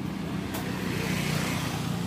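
A Honda Beat FI facelift scooter engine idles nearby, a steady low hum that holds evenly throughout with no voices over it.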